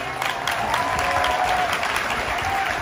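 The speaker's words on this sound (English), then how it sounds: "Give a round of applause to Gary." Steady, continuous audience applause at a Hawaii freedom coalition gathering, dense and even throughout with a faint crowd murmur beneath.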